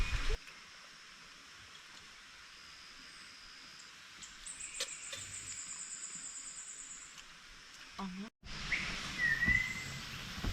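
Thin high chirps and a sustained whistled note from a bird at a forest campsite ring out faintly against quiet background, with a brief pause before another squeaky call.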